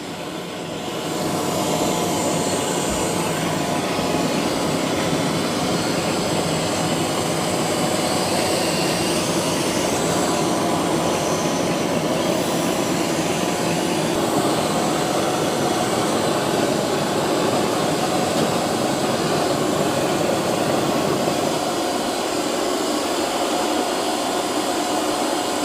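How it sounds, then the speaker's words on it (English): A eufy X10 Pro Omni robot vacuum mopping and vacuuming a floor at once, a steady loud motor hum and airy whoosh held continuously throughout, close by with no talking. "It's mopping and vacuuming at the same time."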